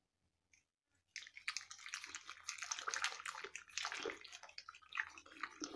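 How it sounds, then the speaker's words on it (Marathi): Cooked lentils for a Marathi-style amti being mashed smooth with a wooden churner, a busy wet squishing and sloshing that starts abruptly after a brief quiet moment and continues unevenly. "तर आता आपण हे रवीने आपल्याला बारीक करून घ्यायची आहे पूर्णपणे डाळ म्हणजे एकजीव"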